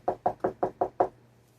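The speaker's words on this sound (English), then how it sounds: "Then he heard another knock." Six firm knocks on a door in an even, quick rhythm, close and clear with no voices, then silence.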